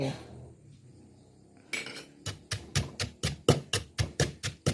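Papaya salad is pounded in a mortar, with about a dozen steady, evenly spaced thuds and clacks in a fast rhythm after a quieter stretch of low background sound.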